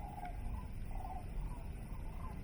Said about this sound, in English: I can't tell if it's a goose or a crane, but there's another call buried in there with them.